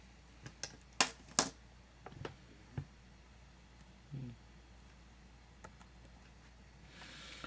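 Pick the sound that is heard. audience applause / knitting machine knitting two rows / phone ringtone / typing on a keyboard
typing on a keyboard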